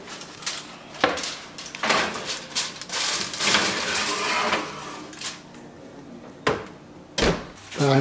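A kitchen oven door is handled and shut over a tray of foil-covered potatoes, with several clattering knocks, metallic rattles and a final firm thud spread across the moment.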